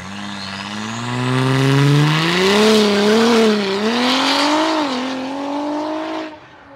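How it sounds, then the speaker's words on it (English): An SUV fitted with a loud aftermarket IE exhaust revs hard, the engine note climbing, wavering and dropping across several pulls before cutting off, loud and close with no talking. "That's exactly what the IE exhaust sounds like."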